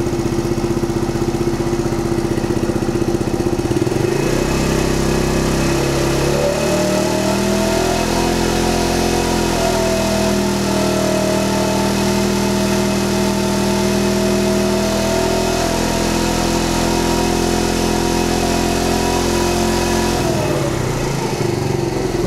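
Scooter engine, on a 300-kilometre service, idling with a steady throb and then revving up and holding around 5,000 RPM for over ten seconds before dropping back to idle, loud and close; no talking.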